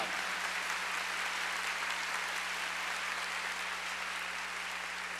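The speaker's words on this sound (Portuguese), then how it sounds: "aplaudindo a palavra" Sustained applause from a church congregation at a Mass, a steady, even wash of clapping with a low hum underneath.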